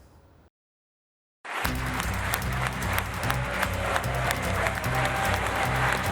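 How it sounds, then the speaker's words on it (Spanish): Supporters and critics react as Boris Johnson becomes Conservative Party leader in the United Kingdom: after a brief silence, loud crowd applause and noise burst in and continue over low, steady background tones. "Entre aplausos y abucheos"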